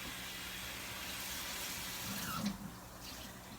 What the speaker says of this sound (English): I'm getting some hot water ready to pour in my rice.